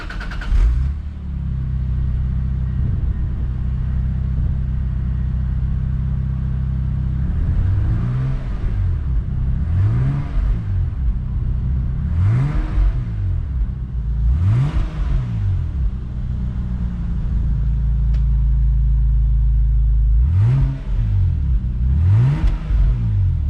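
A bone-stock MKIV Toyota Supra, already warmed up and fitted with an HKS racing muffler, idles with a deep steady drone, then blips up in about six sharp revs spaced several seconds apart, loud and close.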